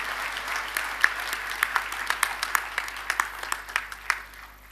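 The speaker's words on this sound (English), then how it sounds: "please give a warm round of applause for our guest speaker this morning" Applause from a university graduation ceremony crowd for a guest speaker, a steady wash of many hands clapping with sharper individual claps popping out, sustained throughout and then tapering slightly.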